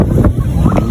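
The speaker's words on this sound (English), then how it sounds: "Oh, you hear it? That goddamn wind." Wind gusts at a beach and buffets the microphone in a loud, low, rumbling roar over a very brief moment, with no voices.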